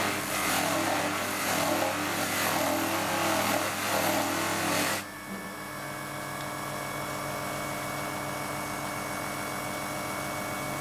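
A machine polisher running on car paint with red polishing compound, a loud, steady whirring buzz for about five seconds that cuts off abruptly, leaving a faint low hum.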